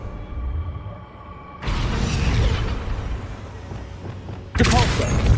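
A Wingardium Leviosa spell effect in Hogwarts Legacy sounds as a sudden whooshing, rumbling burst that holds loud for a few seconds, followed by a second abrupt surge near the end, over a quieter game backdrop.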